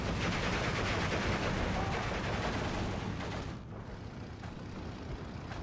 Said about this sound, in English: lots of HE 50 mil mortars are doing the job